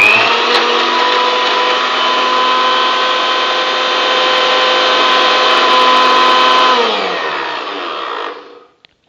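An electric mixer runs at full speed, blending a green mango and pepper milkshake with ground pepper in it, giving a loud steady whir for about eight seconds before it winds down and stops.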